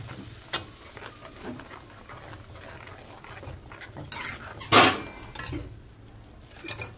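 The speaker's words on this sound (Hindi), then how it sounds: "कांदा और टमाटो का पेस्ट डाल रही हूँ अभी मैं, तो इसको थोड़ा सा मिला लेंगे हम अभी।" Onion and tomato paste being stirred in a cooking pot in a home kitchen: quiet, sporadic scraping and soft metallic clinks of a spoon against the pot, with a few sharper scrapes near the end and no talking.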